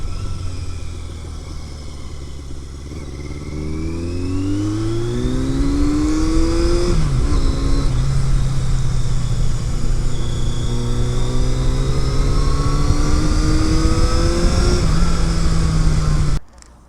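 A Yamaha XJ650 Turbo motorcycle accelerates hard. The engine is loud and close, and its pitch climbs through several gears with brief dips at each shift before it cuts off abruptly at the end.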